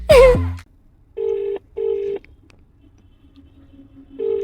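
Three steady electronic phone tones, each about half a second, separated by pauses, following a brief burst of voice at the start.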